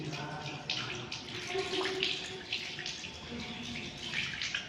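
Water is poured and splashes over bare feet and toes while they are washed for wudu, a steady close trickle with uneven spatters and drips.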